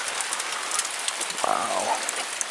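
Steady rain patters and hisses over a campsite in Oregon's Coast Range in fall, with a brief bird call rising through the wash midway.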